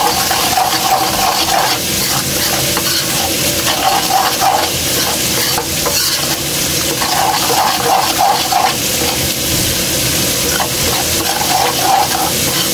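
Water is poured into a pan of simmering chicken gravy, a loud, steady splashing and sizzling bubble that swells and eases in waves throughout.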